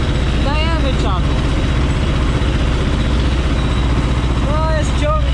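A steady low engine rumble of a T-25 tractor ploughing a field in winter drones throughout, with a couple of brief chirping whistles near the start and end.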